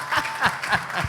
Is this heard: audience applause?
yes